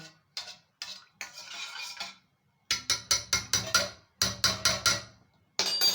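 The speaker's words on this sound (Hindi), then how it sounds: "इसके अंदर ही फेंट लेती हूँ सबके दही को" A spoon beats homemade yogurt (curd) inside a bowl, giving quick clinking metallic strokes in short bursts, several rapid rhythmic runs separated by pauses, fairly close and moderately quiet.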